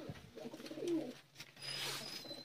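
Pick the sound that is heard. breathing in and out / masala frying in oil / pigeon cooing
pigeon cooing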